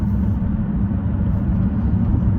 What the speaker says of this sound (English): It's a bit noisy now because I have my winter tires and are a bit noisy